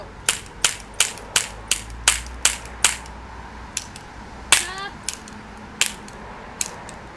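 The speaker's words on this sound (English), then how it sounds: "My brother's about to have a cap gun shootout." Kids fire cap guns in a backyard shootout, a rapid run of sharp, loud snapping pops in steady succession, then a few scattered shots after a brief pause, with a faint voice at one point.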